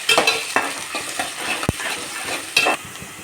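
Onions, green chillies and ginger frying for upma are stirred in a pan, with several distinct scraping stir strokes over a steady sizzle, close and fairly loud, no voices.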